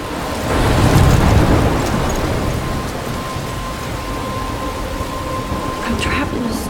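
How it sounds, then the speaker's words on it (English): Thunderstorm with steady heavy rain in the Life Is Strange video game, a loud rolling rumble early on fading into constant rainfall. "I'm trapped in a storm?"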